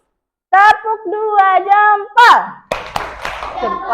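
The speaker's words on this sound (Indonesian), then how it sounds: "Tepuk dua jempol." Second-grade pupils and their teacher chant a classroom clapping game, a sung voice line first, then a shout and a flurry of hand claps and taps with children's voices over them.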